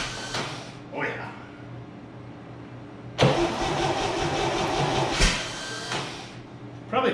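Abandoned 1962 GMC farm truck with a vintage 305 V6 cranking, then catching and running roughly at close range, with a second surge near the end; people talk around it.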